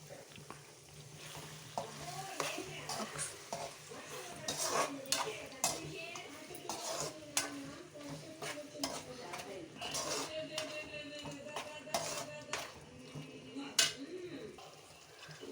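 Bitter gourd curry is stirred in an oiled pan over a low flame, with a spoon scraping and clinking against the metal through a steady low sizzle. The strokes come in repeated bursts and sound close.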